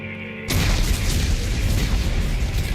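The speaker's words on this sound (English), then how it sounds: "Computer, arm explosives. And detonate." A detonation of armed explosives bursts in loudly after a half-second of quiet, then rolls on as a sustained, dense roar and rumble that fills the rest of the stretch.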